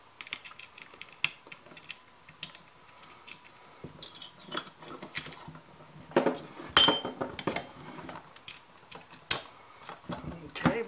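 Metal parts of a Ramset Autofast powder-actuated tool being assembled by hand, heard as close, irregular clicks, clinks and small metallic taps, with a sharper cluster around the middle.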